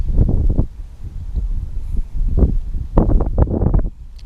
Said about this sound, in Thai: ลมมันแรงด้วย